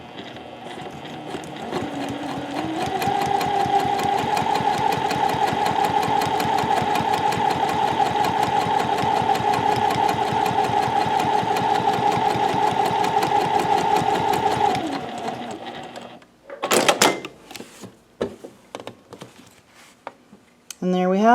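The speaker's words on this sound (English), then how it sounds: "I'm just lining it up with the edge of that foot. I don't need to back stitch here because this is just top stitching." A sewing machine top stitching fabric runs in a steady, close mechanical whir for about twelve seconds, then stops, with a few clicks and handling noises after; a voice talks over it.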